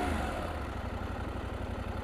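A KTM 790 Adventure motorcycle engine idles steadily with a low, even throbbing pulse, close and moderately loud, no talking.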